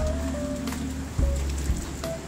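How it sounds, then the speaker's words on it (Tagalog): Steady rain falling on a wet morning, a soft continuous patter with scattered drops, fairly close and even with no voices. "Maulan na umaga."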